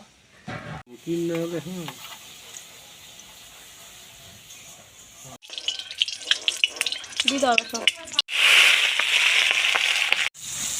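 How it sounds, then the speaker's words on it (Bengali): Washed new potatoes fry in a pan on a new clay stove, giving bursts of sizzling and crackling between quieter gaps. A strong hiss near the end could be water hitting hot oil, and no one speaks over it. "মাংস রান্না করবো, ওই জন্য আলু বসিয়ে দিয়েছি। আলুটা ভেজে নেবো"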